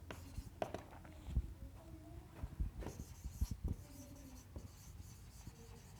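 Someone writes on a board during a chemistry lesson, making quiet, close scratching and tapping strokes in short irregular bursts, with a voice speaking softly over them.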